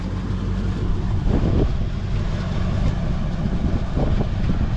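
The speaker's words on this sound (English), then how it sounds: "Man, that fan makes some noise." The engine fan of a 1960 Chevy K10 4x4 pickup runs at hot idle, a steady loud whooshing roar over a low engine rumble, continuous throughout without talk.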